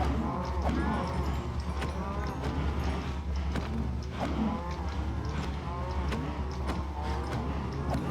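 Cows in the game Minecraft moo again and again, lowing in overlapping calls over a dense, steady backdrop of game noise, with some clopping hoof sounds mixed in.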